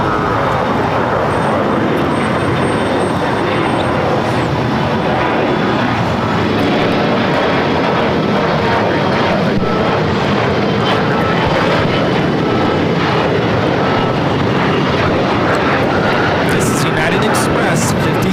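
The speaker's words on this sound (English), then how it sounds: "Express 5310 taking off to Monterey on the E175" An Embraer E175 jet roaring down the runway on takeoff at LAX, a loud, sustained broadband engine rush that holds strong throughout, with radio chatter over it.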